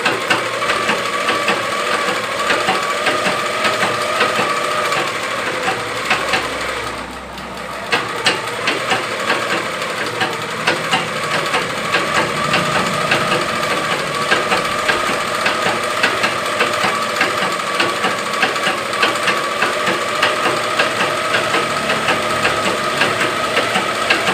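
A sewing machine runs steadily while stitching the lining of a blouse sleeve, a continuous close mechanical whir with fast regular needle ticking and a brief dip in speed partway through.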